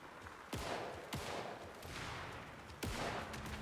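Gunshots from Agent Casey's handgun in the video game Alan Wake II: three sharp, loud reports spaced irregularly over a constant ambient rumble, with no voices.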